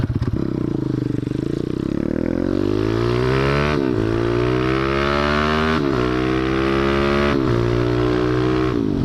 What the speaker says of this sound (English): the 212 next to that brick wall getting on it is so loud even with a helmet on